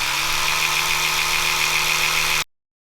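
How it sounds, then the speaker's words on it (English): An electric toothbrush, Sonicare or Oral-B, runs with a steady, loud, even buzzing hum for a couple of seconds, then cuts off abruptly into silence. "Oral-B just sounds more mechanical to me, and Sonicare is more of a humming noise."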